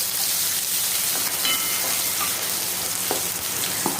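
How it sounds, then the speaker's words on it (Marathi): Onion, garlic and wild greens (kolhu bhaji) sautéing in a pan, a steady close hiss of frying with occasional crackles and light stirring scrapes throughout, no talk. "इथे बघू शकता तुम्ही छान असं मऊ होईपर्यंत परतून घ्यायचं आहे"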